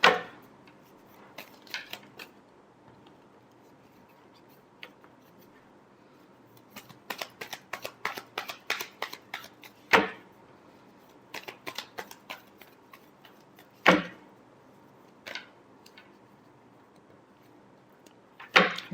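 Tarot cards being shuffled in quiet bursts of quick riffling flutters and soft slaps, with a few sharper taps and pauses between shuffles, no talking.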